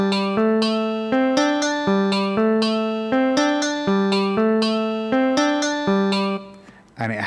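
Two identical pitched instruments play the same repeating phrase, the second an eighth note behind the first, giving a steady, nearly-but-not-quite-in-time phasing pattern of rhythmic plucked notes, loud and alone with no talk.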